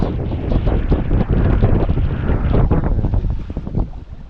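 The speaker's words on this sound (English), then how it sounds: "It's so windy, I doubt anybody will ever hear me." Strong wind at a lake buffets the microphone in a continuous, loud, rumbling roar that swells and dips in gusts, with no voices over it.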